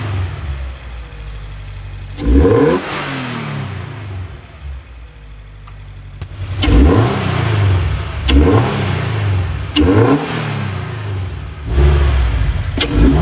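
A Subaru BRZ fitted with a cold-air induction kit revs hard in repeated bursts, each throttle blip rising sharply and then falling away, heard close with a steady idle between the revs.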